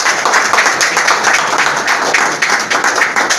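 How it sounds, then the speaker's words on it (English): An audience at a first anniversary celebration of an exhibition space applauds, a dense, loud, continuous clapping from many hands with no voices over it. "Can we have a round of applause for everyone for making it great?"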